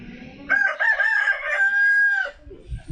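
A rooster near a chicken coop gives one loud, close crow of about two seconds, with a wavering start and a long held note, and soft rustling around it.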